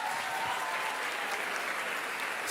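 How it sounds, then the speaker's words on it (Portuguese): Congregation at a church talk applauds the men in the room, an even, continuous wash of clapping, soft and somewhat distant, with no speech over it. "Parabéns, palmas para esses homens aí."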